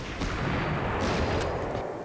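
Artillery fire in the Panzer Corps strategy game, heard as a dense, rumbling barrage of booms that runs steadily through the stretch with no talking over it.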